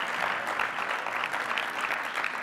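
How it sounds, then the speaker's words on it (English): A live conference crowd at IZEAFest 2015 gives Jen a round of applause after a giveaway, a continuous even wash of clapping heard from some distance, moderately quiet. "Big round of applause for Jen."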